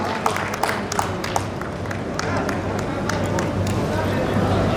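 Audience clapping to welcome a guest onto the stage at a civic event in Gwalior, a steady broadband wash of many hands with a few sharper claps, continuous and moderately loud over a low hum.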